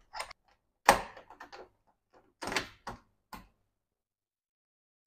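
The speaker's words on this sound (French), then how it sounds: "Je vais la glisser dans ma porte." A Welock fingerprint smart lock is slid into a door, giving a series of short, close clicks and scraping knocks spaced irregularly with quiet gaps between.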